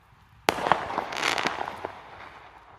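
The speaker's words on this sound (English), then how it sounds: "There's also home firework displays going off over here." Home firework displays on Bonfire Night go off at a distance, a sharp bang followed by a spread of crackling pops and fizzing that fades over a couple of seconds, moderately faint and with no talking.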